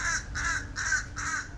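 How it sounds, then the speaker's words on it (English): Crows cawing outdoors in a quiet setting, four loud harsh caws in a steady rhythm close by, with no talk. "I can hear birds."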